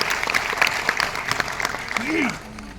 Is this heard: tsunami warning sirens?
no